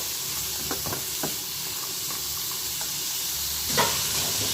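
Carrots for a stir-fry sauté in a pan with a continuous close hiss and sizzle, punctuated by a few light scraping or tapping stirring sounds.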